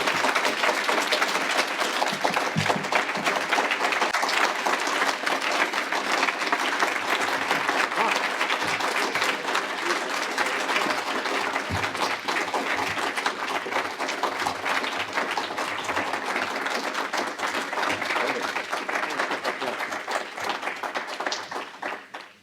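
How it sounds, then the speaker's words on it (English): A crowd applauds after an award acceptance speech at a reunion event, a dense and sustained wall of clapping that keeps going steadily and then tapers off at the end. "Another round of applause."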